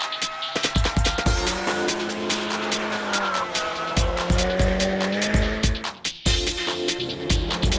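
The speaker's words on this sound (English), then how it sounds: "It requires a change of direction to throw the car sideways." A car thrown sideways into a drift through a corner, engine revving hard with rhythmic shifts while the tires squeal in long sustained screeches, loud and close, with a brief dip near the end before the engine roars again.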